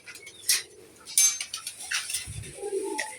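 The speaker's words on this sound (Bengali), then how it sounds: "এখানে মুরগি আর কবুতর দুইটাই একসাথে মুরগি নিচে আর কবুতর উপরে" Pigeons cooing on a poultry farm where chickens and pigeons are kept together, with pigeons housed above; several short, fairly close calls come in bursts over low background clatter.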